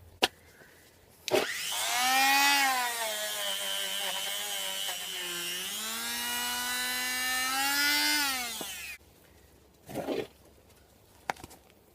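A power tool whines for about seven seconds as rust is cleaned off the brake hub surface of a 2003 Suzuki Grand Vitara 2.5 V6, its pitch dipping briefly under load. It starts and stops sharply, with a few clunks afterward.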